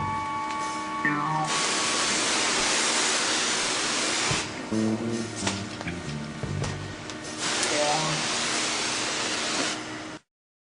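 Delousing spray hisses in long, loud bursts inside a penal camp shower, broad and steady with short breaks between them, while people talk over it.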